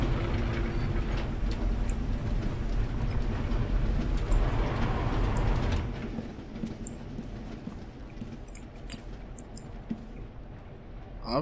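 Steady train riding ambience in the horror game Husk, a loud continuous rumble of wheels and carriage with faint clicks, dropping to a quieter hum partway through, with no voices.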